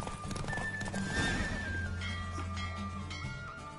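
Horse galloping and neighing in The Witcher 3: a whinny rises over steady clip-clop hoofbeats, loud and close, with continuous game background sound throughout.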